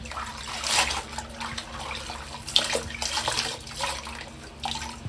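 A wig is dipped and rinsed in a basin of water, making soft, uneven splashing and sloshing with trickling water close by.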